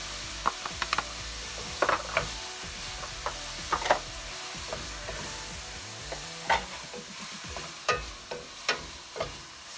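Onions and vegetables sautéing in a pan while cooking beef short ribs, a steady sizzle broken by repeated sharp scraping and clicking strokes of a utensil against the pan bottom.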